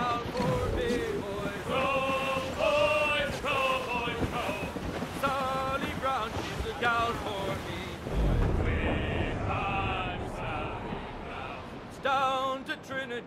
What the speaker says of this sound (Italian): È un bel vento, capitano.